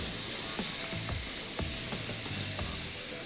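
Liquid such as stock or water poured into a pan of berkoukes cooked risotto-style, giving a steady close sizzle and hiss with soft stirring knocks repeating at intervals throughout, no voices.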